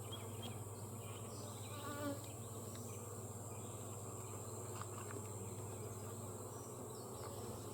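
Honey bees buzz steadily around an open hive during an inspection, a dense continuous hum with occasional louder passes of single insects close by.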